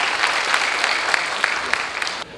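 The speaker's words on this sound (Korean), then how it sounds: "여러분 뜨거운 박수 부탁드리겠습니다." An audience at a university president's inauguration ceremony gives steady applause. It is a dense, close clatter of many hands for a couple of seconds and then stops abruptly.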